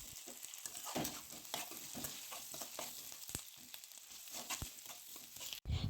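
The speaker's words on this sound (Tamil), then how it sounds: "அது நல்லா வதங்கினதையும் நம்ம 2 தக்காளி சேர்த்து அதையும் நல்லா வதக்கிக்கலாம்" Onions and then tomatoes sautéing in oil in a pan for a Tamil dried-fish curry, a steady close sizzle broken by repeated clicks and scrapes of a spoon stirring, with no talking.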